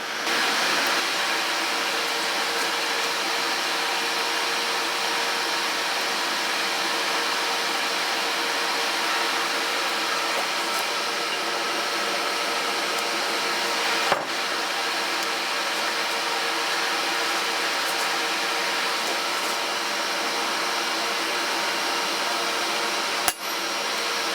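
A forge roars steadily while a knife blade heats for thermal cycling, a constant loud broadband rush with no pauses, broken only by a couple of brief faint clicks, with no talk.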